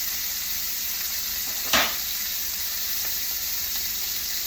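Steak pan-frying in hot oil gives a constant loud hiss and sizzle, with a brief sharper spatter burst near the middle and no voices.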